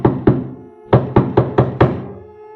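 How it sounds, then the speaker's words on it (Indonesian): Loud, urgent knocking on a door: two hard knocks, a short pause, then a faster run of four heavy raps, close and alone with no talk. "Kali ini, suara ketukan itu lebih keras dan mendesak."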